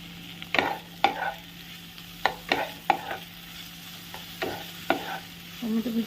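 Green beans and chopped tomato are stirred in a frying pan, giving about a dozen scraping strokes at an uneven pace over a faint sizzle. A steady low hum sits underneath.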